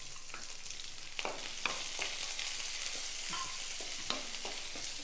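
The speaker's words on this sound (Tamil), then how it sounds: "கொஞ்சம் சிம்மில் வச்சுட்டு வெங்காயமும் மிளகாயும் வதங்கட்டும்" Small onions and chillies sizzle steadily in a pan on low heat, a constant hiss of frying with a few light clicks of stirring near the microphone.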